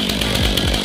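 Fuel-injected chainsaw engine revs hard with sharp throttle blips, a loud close buzzing whine pulsing in quick bursts during spring tree work.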